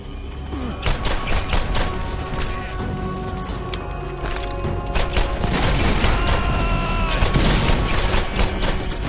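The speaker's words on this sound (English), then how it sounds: "Are you throwing those explosions?" Dense bursts of booming explosions and rapid gunfire-like cracks from the video game Borderlands, loud and continuous, with chaotic mechanical noise throughout.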